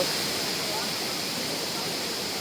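Constant broadband rush of Kothapalli waterfall near Araku, even and unbroken throughout, with no distinct voices.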